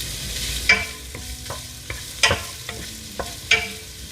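Onions go into a pan of crispy frying bacon, with a soft constant sizzle broken by a few sharp scraping stirs of a utensil against the pan at irregular intervals, close and moderately loud.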